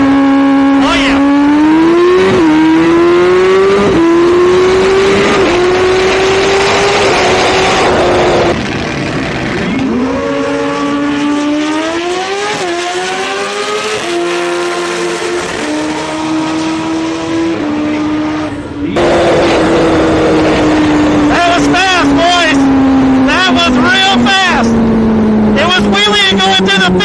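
Hayabusa-engined drag car screaming at full throttle down the strip, loud and close, its pitch climbing through repeated gear shifts for nearly half a minute, with a voice talking over the engine.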